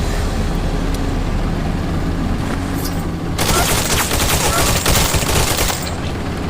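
Rapid video game gunfire in a shooter match: a steady background of shots, then a loud, dense burst of automatic fire that runs from about the middle of the scene nearly to its end, close and harsh.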